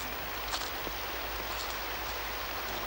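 Steady rain falling outside, a dense even hiss with scattered drops, continuous and fairly close, with no voices.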